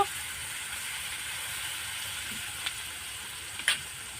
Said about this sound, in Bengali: এবার সব জিনিসগুলো একসাথে আমি ভালো করে একটু কষিয়ে নেব